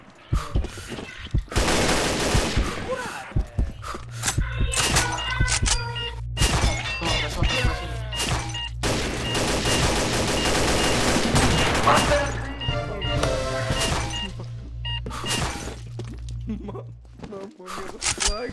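Rapid turret gunfire in the online shooter Combat Arms, dense bursts with sharp impacts and clatter running almost continuously, loud and close, with players talking over the shooting.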